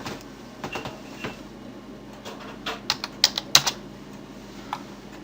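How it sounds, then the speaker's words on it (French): Typing on a computer keyboard, heard as scattered key clicks that thicken into a quick burst of taps in the middle, close and fairly quiet, with no talking. "Et là, vous cliquez et vous pouvez taper du texte"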